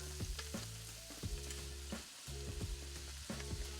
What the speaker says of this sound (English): Now we're going to start with frying our leeks.